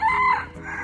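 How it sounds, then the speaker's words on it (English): A rooster on a Western Cape farm in South Africa crows once, loud and close, its call rising and then trailing off, with no voices around it. "There's a rooster."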